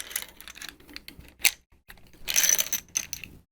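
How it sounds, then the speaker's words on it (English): Metallic clicks and clatter as a real Mosin Nagant rifle's magazine floorplate is unlatched and swung open, then a jangling spill of cartridges tumbling out, close and crisp with short quiet gaps between bursts. "You can easily empty the rifle in the real world by just undoing the bottom of the magazine"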